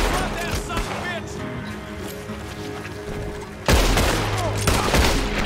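Rapid gunfire in the Western video game Red Dead Redemption 2, a dense, loud volley of shots that swells sharply partway through, with a voice talking over the shooting.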